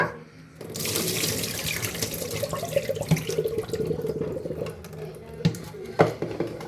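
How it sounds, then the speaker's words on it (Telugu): Tap water running steadily into a sink while raw chicken is rinsed by hand, with sharp splashes and clunks of the pieces and bowl near the end. "మళ్ళీ వాటర్ యాడ్ చేసుకొని మళ్ళీ వాష్ చేసుకోవాలి"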